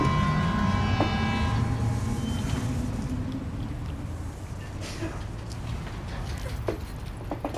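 A monorail train rolls along in Death Stranding 2, a steady low rumble of rail travel with a brief tonal horn-like note early on, continuous and fairly close, fading slightly toward the end with no talk.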